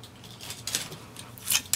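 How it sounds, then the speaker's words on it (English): Scissors trimming the end flaps off paper pages of a mini album insert booklet, heard as a few quiet, crisp snips close by, spaced out over a low room hush. "I'm just going to take my scissors"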